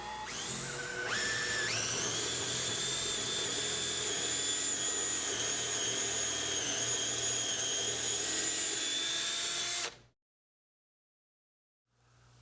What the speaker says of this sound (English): drill a pilot hole into the rafter